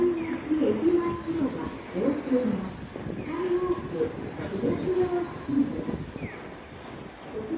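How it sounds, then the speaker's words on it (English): A train passes an elevated station platform in Osaka, Japan, on a Christmas-lights evening: a steady rumbling roll with clattering wheels and a faint high squeal, close by, with voices chatting over it. "You heard the train."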